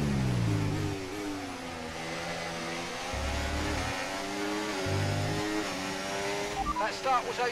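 F1 cars from the F1 24 racing game scream down the Bahrain straight, their high-pitched engines whining steadily and shifting through gears, loud and continuous under a commentator's voice.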